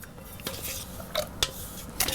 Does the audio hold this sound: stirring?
yes